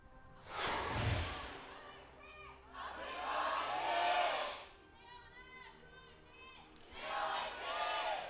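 A live esports crowd at an LCK Spring 2017 League of Legends match cheers for Jin Air in three loud, roaring swells of shouting, with calmer pauses between them. Commentators talk throughout.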